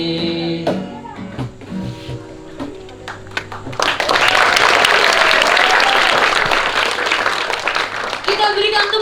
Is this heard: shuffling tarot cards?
no